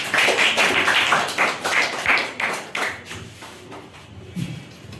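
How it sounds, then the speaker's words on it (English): An audience at a school speech competition claps in a rhythmic burst for a student speaker, loud at first and then thinning out into scattered claps. "Clap for him."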